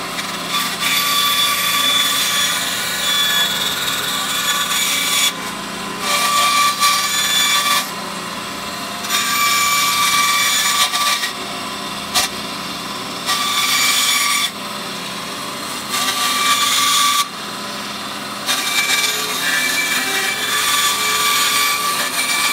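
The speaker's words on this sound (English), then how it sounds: "now I'm at the small bandsaw, and I'm just going to rough shape these cuts out" A small bandsaw rough-cuts segmented guitar pick blanks, running loud and close with steady whine and rasp, the cutting noise swelling in bursts as each piece is fed through and easing between passes; no one talks.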